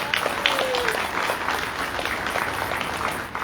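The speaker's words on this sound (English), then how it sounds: "Everybody give him a round of applause for Dr. Hughes." Audience applause at a museum gala, a steady dense wash of clapping from a crowd that holds evenly throughout with faint voices mixed in.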